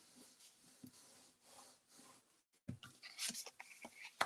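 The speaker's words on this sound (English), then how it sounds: "fold it in half, and give it a good crease with our bone folder." Folded basic white cardstock being creased with a bone folder, soft close rubbing and scraping strokes, faint at first then louder and scratchier after a brief pause.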